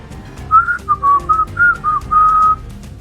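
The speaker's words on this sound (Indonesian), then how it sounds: "sedang suara siulan tetap santai, datangnya dari arah sebelah muka" A sequence of whistled notes, about six short wavering phrases with gaps between them, clear and fairly close, ending in one longer sustained tone.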